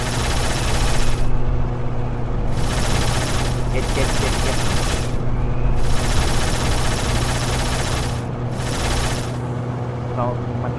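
Rapid bursts of gunfire in the Roblox game Jailbreak, several loud volleys separated by short pauses over a steady engine-like drone, with game audio dense throughout.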